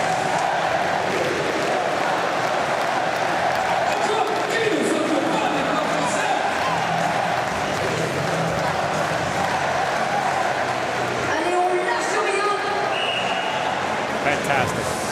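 A sellout crowd of nearly 15,000 ice hockey fans in a Paris arena produces a constant, dense roar of cheering and murmur, with a commentator talking over it.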